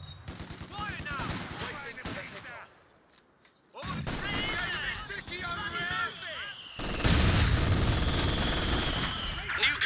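Machine gun fire and other gunfire in an M10 tank battle game crackle in dense rattling bursts, with a short lull, then louder sustained firing and booms, while someone talks over the shooting.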